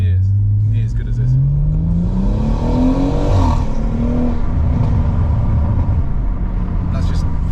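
A BMW M140i tuned to Stage 2 with an aftermarket exhaust revs hard. The engine note climbs loud and close, then drops back to a rumbling idle with some crackle. A voice talks over it.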